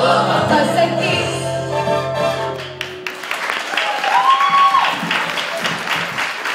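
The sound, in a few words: audience applause for Urtė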